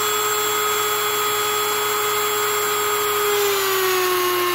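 A Dremel rotary tool fitted with a small pointy grinder bit drills through part of a model Cessna 150, a continuous close, even motor whine with a steady pitch throughout.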